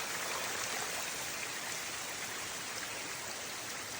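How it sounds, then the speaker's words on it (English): A waterfall tumbles down beside a rocky section of the Appalachian Trail in New Hampshire's Franconia area, a dense, steady roar of rushing water, loud and unbroken throughout. "Walking down the waterfall."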